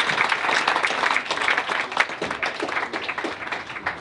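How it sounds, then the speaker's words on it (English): Audience applause following a coastal engineering panel talk at a waterfront conference, a steady spread of clapping from a moderately sized crowd, fairly close and evenly sustained. "Let's give him a round of applause."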